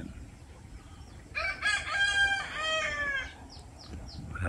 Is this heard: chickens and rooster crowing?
yes